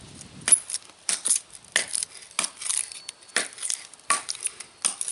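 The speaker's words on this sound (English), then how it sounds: "See how it does chopping." Repeated short chopping strikes of a small knife with light crackling, about a dozen irregular hits close by, each a quick sharp knock on wood.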